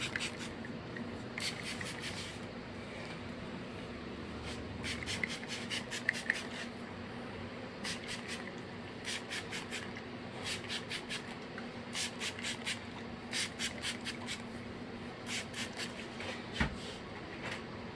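A spray bottle mists water over the top of a man's hair before a light barber trim, in quick close clusters of sharp spritzes repeated through the stretch.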